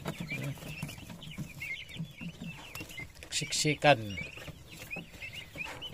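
Fifteen-day-old turkey chicks peep and chirp in a crowded brooder, soft high cheeping throughout with a louder cluster of calls near the end, while a person speaks briefly over them.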